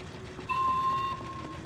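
A train in the video game Little Nightmares sounds a steady whistle tone for about half a second, loud over a rumbling mechanical background that continues throughout.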